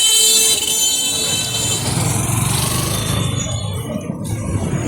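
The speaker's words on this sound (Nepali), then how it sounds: "यतातिर चाहिँ बस पार्क हो बिरगन्जको बस पार्क" Busy road traffic at the bus park in Birgunj, Nepal: a loud, steady rumble of car, truck and motorcycle engines close by, with a horn sounding near the start.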